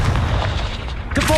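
Confringo spell blast from the Hogwarts Legacy video game, a loud, sudden fiery burst that rumbles for about a second and then rings out with a brief bright shimmer.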